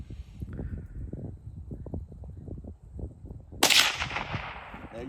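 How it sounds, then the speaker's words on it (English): A single sharp gunshot from a rifle cracks loudly about two thirds of the way in, ringing briefly after a stretch of low rustling and handling noise. "before I shoot, make myself flat and hold it"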